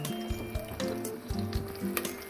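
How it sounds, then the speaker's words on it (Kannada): Chopped onions fry in a couple of spoons of oil inside a pressure cooker, giving a short, steady sizzle with faint scraping, over soft background music. "ಕಟ್ ಮಾಡಿಟ್ಟಿರೋ ಈರುಳ್ಳಿ ಹಾಕ್ಕೊಬೇಕು. ಇದನ್ನು ಸ್ವಲ್ಪ ಫ್ರೈ ಮಾಡಬೇಕು."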